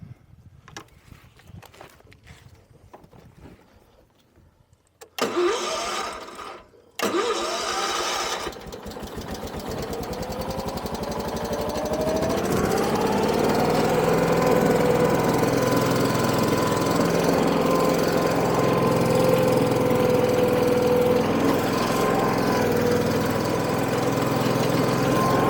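A vintage Case tractor engine cranks with a few loud bursts, catches, and settles into a steady, close, even-running idle that continues for a long stretch, with faint background activity before it starts.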